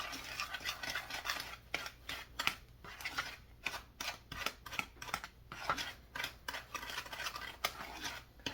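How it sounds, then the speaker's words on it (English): A spoon scrapes and stirs a dry cinnamon crumb topping mixture in a bowl, making a series of close, quick gritty strokes in an uneven rhythm. "I'm going to give that a stir before I add that butter in there."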